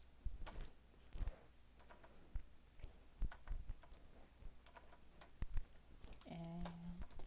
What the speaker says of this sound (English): Gotta type it again.